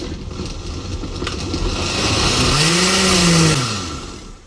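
A loud kitchen blender whirs close up as it blends pumpkin pieces with water, a steady grinding motor roar that rises in pitch and strains as the load thickens.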